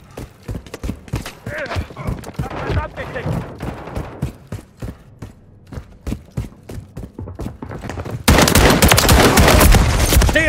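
Rapid bursts of automatic gunfire and single shots ring out in a Call of Duty match, broken by gaps, with a voice speaking between them, then a dense, sustained barrage of loud fire closes the scene.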